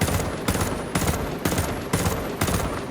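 DMR rifle shots in Ghost Recon Breakpoint, a tactical shooter, crack out in a steady, loud rhythm of six evenly spaced reports about half a second apart, each followed by a short echo.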